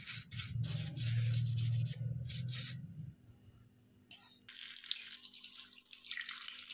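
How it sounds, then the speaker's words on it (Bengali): A comb is scrubbed clean under a running tap at a bathroom basin, with rushing water and rubbing strokes that stop briefly midway before splashing resumes, close and without speech. "সেই চিরুনিটা আমি একটু পরিষ্কার করে নিচ্ছি ভালোভাবে"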